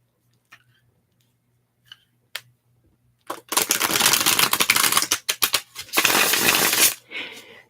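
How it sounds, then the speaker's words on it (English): A deck of cards being shuffled close up in a quiet ASMR setting, with a few isolated taps at first, then long dense bursts of riffling and flicking. "I'll be done shuffling the cards very soon"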